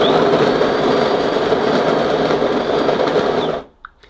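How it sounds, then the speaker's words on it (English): A DeLonghi Magnifica bean-to-cup coffee machine grinding beans makes a loud, steady whirring burr drone up close for about three and a half seconds, then stops sharply, leaving a brief faint click. "So I'm going to start now, time the grinding."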